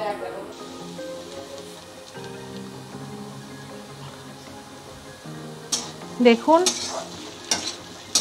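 Ridge gourd (chichinga) fries and crackles in a pan while being stirred, with a brief spoken word and background music, then a few sharp utensil clinks against the pan near the end.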